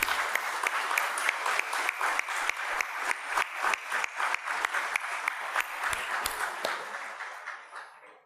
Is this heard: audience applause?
yes